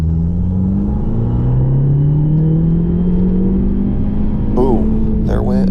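A Fiat Abarth accelerates at wide open throttle from 20 to 50 mph, its engine note rising steadily in a loud, close, continuous pull, then briefly shifting near the end.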